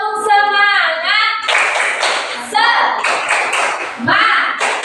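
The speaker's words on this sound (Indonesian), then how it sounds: "kita coba ya melakukan ya tepuk semangat supaya kita lebih semangat lagi nih" A primary school class does a rhythmic spirit clap in unison, bursts of patterned hand claps alternating with the children's chanting voices and a teacher's voice, loud and close in the classroom.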